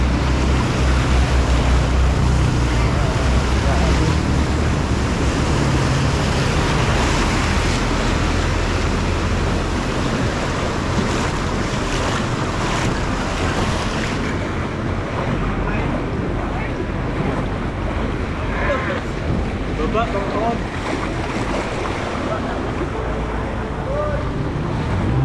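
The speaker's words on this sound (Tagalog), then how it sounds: "Lakas ng alon." Strong ocean surf pounding during a typhoon near flooded Daet, with wind buffeting the microphone; a dense, loud, continuous roar of waves and wind throughout.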